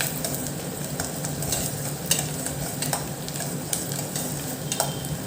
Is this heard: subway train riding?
no